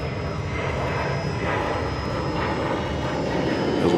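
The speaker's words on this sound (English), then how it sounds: "watch the ever-loving sounds of aircraft at America's, actually the world's busiest airport" Aircraft at Atlanta Hartsfield-Jackson International Airport produce a continuous, even engine roar with a faint steady whine, heard from a distance with no talking.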